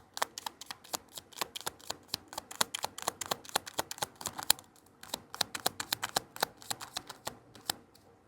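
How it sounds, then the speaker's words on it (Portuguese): Tarot cards are drawn and handled from a deck, making a fast run of crisp, close card snaps and flicks in a steady rhythm with a short pause midway, and no speech. "Deixa eu pegar aqui 3 cartas."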